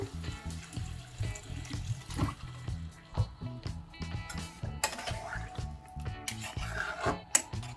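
Water pours into a pot of green banana curry, splashing and trickling with uneven bursts and drips, fairly quiet and close, with no talk.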